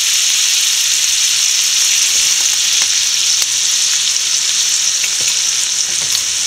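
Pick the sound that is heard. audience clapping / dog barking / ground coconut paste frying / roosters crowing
ground coconut paste frying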